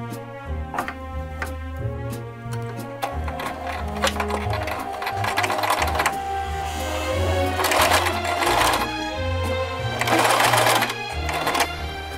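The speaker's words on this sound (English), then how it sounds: "The sewing machine is not behaving as it should." A misbehaving sewing machine stitches continuously with a rapid mechanical clatter and low motor hum, steady and close.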